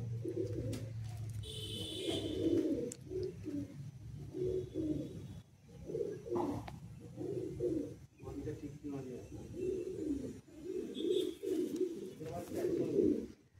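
Madrasi pigeons coo in a loft, a continuous layered murmur of low throaty calls, with people talking throughout.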